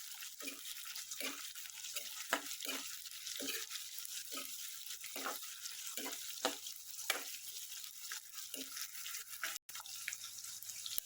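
Sliced onions frying in a pan, a faint hissing sizzle with a string of short, irregular spatters and stirring taps, steady and close with no voices.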